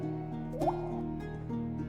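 A single drop of water falls from a ceiling with a soft plop, heard once over a low steady hum inside a quiet, damp house.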